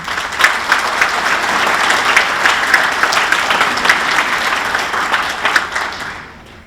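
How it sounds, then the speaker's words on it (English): A hall of fame induction ceremony audience gives Marcy Bennett a big round of applause, loud dense clapping with a few sharp individual claps standing out, fading away at the end. "how about a big round of applause for the Executive Director of the St. Joseph Convention and Visitors Bureau"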